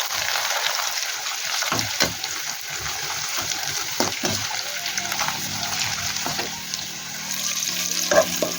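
Mushrooms frying in a little oil for a mushroom and cauliflower gravy, with a steady soft sizzle and occasional scraping stirs close by, no voices.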